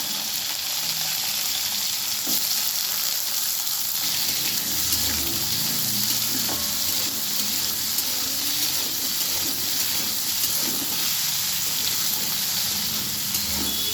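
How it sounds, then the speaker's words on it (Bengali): Potatoes frying in oil with cumin and split green chillies for a pea and potato ghugni, giving a dense, steady sizzle with faint stirring scrapes, close and even throughout. "আলুগুলো একটু ভেজে নিলাম"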